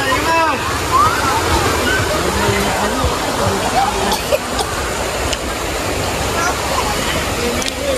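A river rushes steadily right beside a campsite, a close, broad wash of flowing water throughout, with people talking over it.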